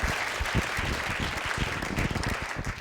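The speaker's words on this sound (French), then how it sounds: "On peut t'applaudir aussi" An audience at a film screening at an institute claps steadily, with distinct individual hand claps audible within a dense, continuous round of applause.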